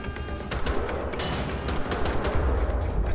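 Rapid gunfire in the video game Wolfenstein: The Old Blood, a loud, steady stream of close automatic shots with heavy low rumble running throughout.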